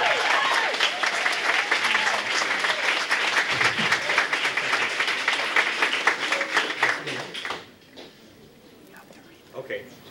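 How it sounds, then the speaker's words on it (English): An audience at a medical college white coat ceremony gives a dense, sustained round of applause for an award recipient, with voices mixed in, before it stops abruptly and leaves near silence. "Let's give him a round of applause."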